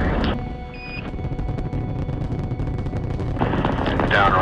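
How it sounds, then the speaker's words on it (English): A Saturn V rocket carrying Apollo 11 lifts off with a deep, crackling roar that rumbles steadily throughout, with a faint voice in the background. "liftoff on Apollo 11"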